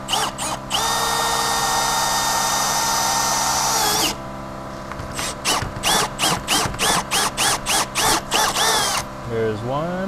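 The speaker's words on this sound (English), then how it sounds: "we're gonna need our drill and a 25/64 drill bit" A power drill with a 25/64 bit bores a large hole for a GX470 tire carrier, one long steady whine, then a series of short trigger pulses, all loud and close.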